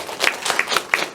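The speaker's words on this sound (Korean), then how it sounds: "박수입니다." Congregation applauding during a sermon at a ministers' meeting, a brief burst of many hands clapping in quick uneven strikes, near and fairly loud, with no talk over it.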